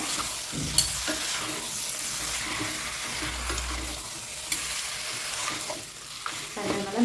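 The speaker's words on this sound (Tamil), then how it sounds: "மட்டன் இதில் போட்டு நல்லா மிக்ஸ் பண்ணிடுங்க மட்டனும் இந்த மசாலாவும் ரெண்டும் நல்லா மிக்ஸ் ஆகணும்" Mutton is stirred with masala in a hot pan, a spoon scraping and turning the meat over a continuous close sizzle, with occasional louder knocks against the pan and no talking.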